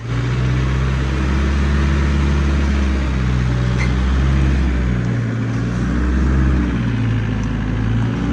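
A Nissan Big-M pickup truck engine, long parked, idling and pulling away as it is driven out, a loud, close, rough low rumble that rises and dips with throttle, no talk.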